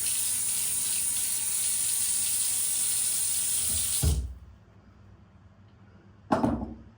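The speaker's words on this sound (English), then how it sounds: "And just put really hot water on it." Hot water gushes steadily from a tap into a plugged sink for about four seconds, then the flow stops. A short loud knock or clatter follows a couple of seconds later.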